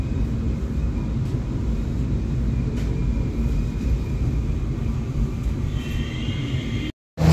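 Steady low rumble of an MRT Line 1 train riding through Manila, a continuous loud mechanical drone with faint high whines near the end before a sudden brief cut.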